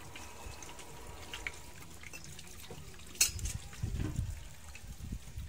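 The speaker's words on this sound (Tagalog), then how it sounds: "Lalagyan natin ng tubig." Water poured into a cooking pot for a provincial nilupak recipe, a faint trickle and splash that grows a little louder near the end, heard alone without talk.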